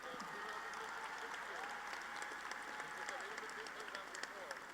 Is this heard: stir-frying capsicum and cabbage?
no